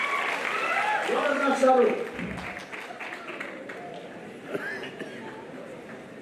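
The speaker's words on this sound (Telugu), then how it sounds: "ఒకసారి చప్పట్లు కొట్టండి ఆయనకి." Audience clapping for a former minister at a university golden jubilee celebration, a broad steady patter of many hands filling the hall, with a speaker's voice over it near the start.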